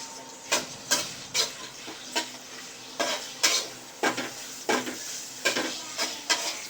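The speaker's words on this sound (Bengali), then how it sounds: "এখন তেল দিয়ে ভাজা হইতেছে।" Pan frying with repeated sharp stirring scrapes roughly every half second over a steady sizzling hiss, close and fairly loud, no voices.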